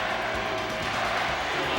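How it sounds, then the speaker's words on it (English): Iowa State basketball crowd chanting ISU at an away game at Texas A&M, a dense, steady roar of many voices filling the arena with no break across the short stretch. "But listen to this crowd chant ISU."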